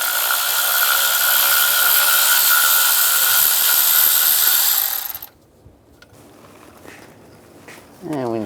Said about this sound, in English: And take the bolt off up here. Use the same 10mm socket.